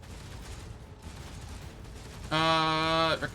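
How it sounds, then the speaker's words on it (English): A burst of gunfire crackles through a distorted radio-like transmission, a harsh buzzing tone cutting in sharply for under a second near the end after a stretch of low static hiss. "The Vox transmits the sounds of gunfire and death screams."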